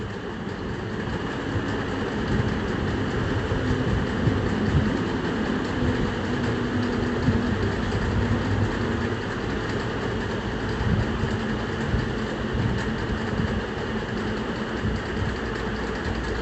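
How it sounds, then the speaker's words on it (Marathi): A sewing machine runs a line of stitches through folded old sari cloth, a steady, moderately loud mechanical whir that continues evenly throughout without pauses or voices. "या पद्धतीने फोल्ड करायचं आणि एक शिलाई मारून घ्यायची आहे"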